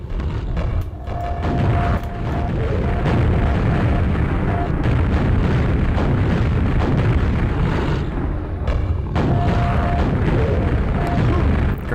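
Grenade explosions in Quake 1.01 thud in a loud, dense rumble with repeated bursts and game noises across the clip, and a player talks intermittently underneath.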